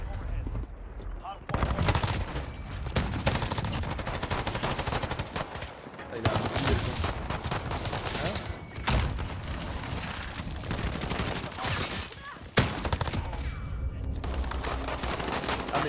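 Rapid gunfire from a new weapon in a Modern Warfare multiplayer match, loud sustained automatic bursts with short breaks between them, mixed with game effects and a talking voice.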